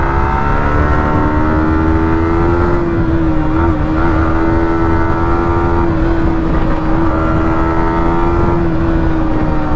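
A car races close past with a loud, sustained engine roar whose pitch shifts slightly as it cuts in tight on a road, heard alone without talk.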